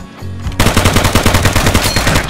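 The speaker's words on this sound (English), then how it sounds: "Shots." Rapid bursts of video game gunfire, a rhythmic string of loud shots following a brief quieter moment, with no talk over them.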